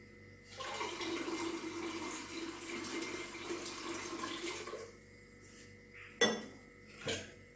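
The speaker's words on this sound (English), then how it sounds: "now fill some water inside the pressure cooker" Water gushes steadily into a metal pressure cooker for several seconds, then stops, followed by two sharp clanks of metal.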